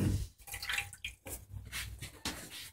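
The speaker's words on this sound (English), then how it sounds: "wash my hands" Tap water running into a sink during handwashing inside a BBQ food trailer, with splashing and dripping bursts that come and go, fairly close and moderately loud, with no talking.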